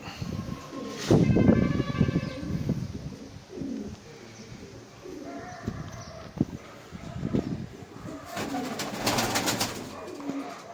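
Pigeons at a breeder's loft coo in repeated soft bursts, some close and some quieter, with short gaps of low background noise between them.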